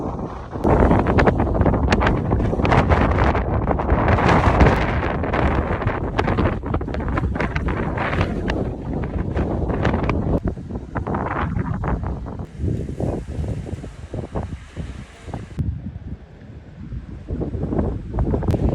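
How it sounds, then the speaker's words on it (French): Strong wind roars and buffets the microphone continuously near the San Adrián tunnel, gusting loud and rough with brief dips. "il y a un vent de fou là"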